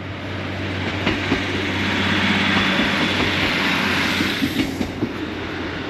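A train on the England coastal line near Braystones and Seascale rumbles past close by, a loud sustained roar swelling and fading with faint rhythmic clacks of wheels on track.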